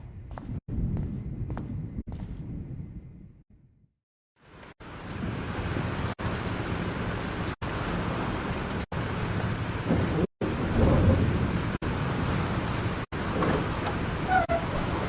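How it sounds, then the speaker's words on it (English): Thunderstorm in the Life is Strange video game: steady loud rain and rumbling storm noise fill the scene, broken by sharp cracks and a brief near-silent gap early on. "This storm is real."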